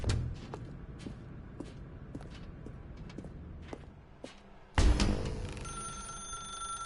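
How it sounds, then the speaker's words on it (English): A telephone rings repeatedly in The Stanley Parable video game, bright bell tones in a steady pattern inside a dark room, with soft footsteps before the ringing grows louder and closer. "Now pick up the phone, said the bucket."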